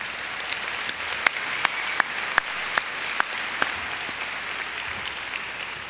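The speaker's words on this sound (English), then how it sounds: "So let's give them a round of applause also." Applause from the audience at a university spring commencement ceremony, a broad, steady wash of clapping with a few sharper, louder claps standing out near the front, fading slightly toward the end.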